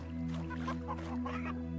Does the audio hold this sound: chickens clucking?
yes